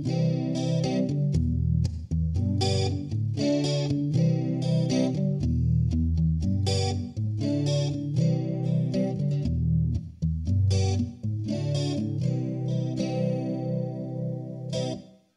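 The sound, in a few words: acoustic guitar through acoustic simulator pedal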